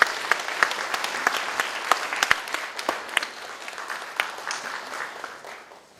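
An audience claps at the opening ceremony of a provincial mental health center, with crisp individual claps over a steady patter that gradually fades out.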